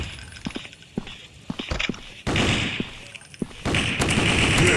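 Rapid gunfire from an Android gun fight video game: sharp shot transients in the first half, then sustained loud automatic bursts with dense, crackling noise, no talking.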